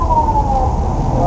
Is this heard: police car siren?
yes